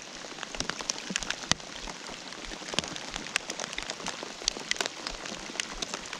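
Steady rain patters around a kayak in the middle of the Brazos River, dense close droplet taps and hiss with sharper individual drops striking nearby surfaces, with no voices.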